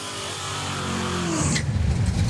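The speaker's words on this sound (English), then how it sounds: "check out the Mustang in the National Guard lane. It is flying." Small-block, naturally aspirated Ford Mustang drag racing down a strip at a drag-week event, its engine roaring loud and close as it accelerates hard, revs climbing steadily before the note drops into a deep, rumbling pull.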